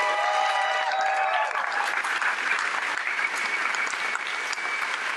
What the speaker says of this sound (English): how about another round of applause for these amazing educators?